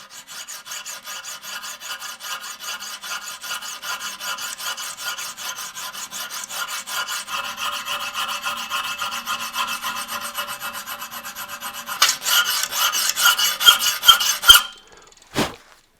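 A metal file works a steel broadhead in quick, rhythmic rasping strokes that continue steadily and close for the whole stretch, growing louder near the end and ending with a few sharp taps.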